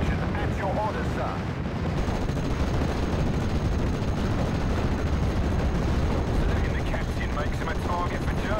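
Dense, continuous gunfire and artillery-like blasts in the WWII strategy game Steel Division Normandy 44, a loud sustained barrage of overlapping shots with no pauses.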